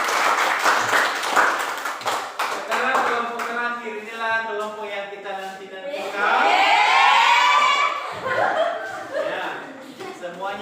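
Classroom applause for a student presentation group, with clapping and chuckling mixed under a teacher's voice and students talking, lively and near.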